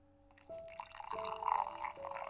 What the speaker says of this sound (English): Shall I pour us some tea?